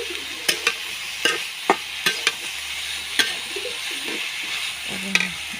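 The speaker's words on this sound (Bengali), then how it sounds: "করলাগুলো দিয়ে ফেললাম, সুন্দরভাবে এটা নাড়াচাড়া করতে হবে।" Bitter gourd frying in a pan is stirred with a spatula: sharp, evenly spaced knocks and scrapes against the pan over a soft, continuous sizzle.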